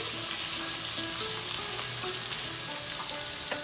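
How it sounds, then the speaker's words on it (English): Sliced red onions frying in a pan make a dense, continuous close sizzle with a few faint higher tones running under it, and no talk. "We'll fry it until it becomes translucent."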